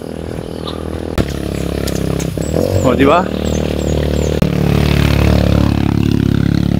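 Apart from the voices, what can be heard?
motorcycle riding uphill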